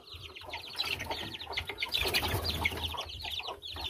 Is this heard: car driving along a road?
no